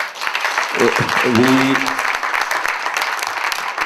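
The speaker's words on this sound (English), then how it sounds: "I think that's worth a round of applause." An audience at a business event applauds steadily, with a dense wash of clapping throughout and a brief spoken voice rising over it near the start.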